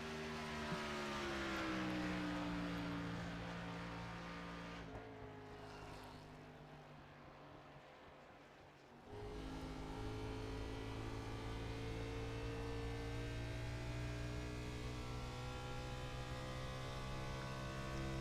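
A race car's engine drones steadily as it starts a hot lap at Nashville, its pitch gliding and briefly dipping quieter midway before the constant distant roar returns.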